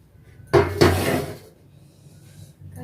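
Dishes and pots clatter as hot khichuri is served in a Bengali home kitchen: two close, loud clanks of crockery and metal in quick succession, then a low rattle and a faint final knock.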